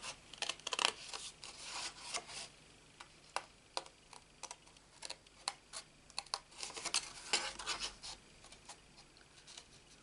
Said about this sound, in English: So I am just going to cut this bow out.